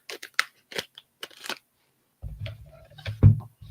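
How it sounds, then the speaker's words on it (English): Scissors snipping in a few quick, crisp cuts, close and fairly quiet, followed by a short rustling and a low thump. "You know what? I don't like the scissors."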